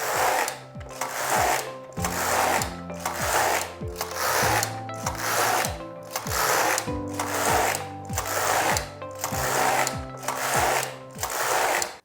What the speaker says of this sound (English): And now I knit my rib for as many rows as I like.